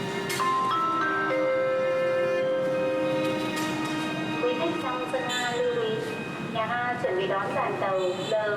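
A train pulls into a station platform in Hanoi, Vietnam, with long sustained wheel squeals and shifting metallic tones as it slows, loud and close over steady rumbling.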